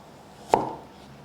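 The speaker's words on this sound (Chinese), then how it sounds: "把小黄瓜切成斜片状" A kitchen knife slices a cucumber diagonally on a board: one sharp, close chop with a short thud, otherwise quiet.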